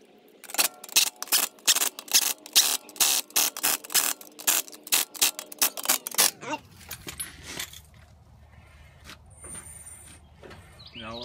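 Ratchet clicking in quick steady bursts while tightening bolts on a 1994 Toyota Land Cruiser during birfield joint replacement, loud and close for about six seconds, then stopping into quiet shop background with a few faint clunks.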